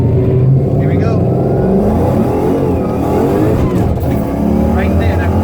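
A 2011 Ford Mustang with a T56 manual gearbox accelerating hard at full throttle through a 1-2 power shift, the engine roaring loud and close with a brief dip at the shift, while someone talks over it.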